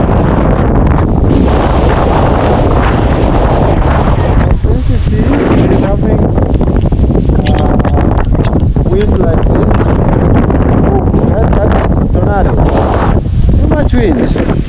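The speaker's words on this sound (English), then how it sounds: "Too much wind." Strong outdoor wind buffets the microphone continuously with loud, rumbling gusts, while voices talk faintly underneath throughout.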